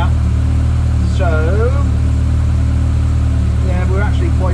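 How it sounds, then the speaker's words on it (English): Ford Escort Mk1 with a Pinto engine and throttle body conversion idling a bit high and running rich, a loud steady rumble throughout, with brief voices speaking over it. "So we're idling a bit high."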